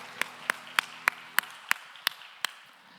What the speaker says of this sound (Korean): 박수로 서로를 응원하며 축복합시다.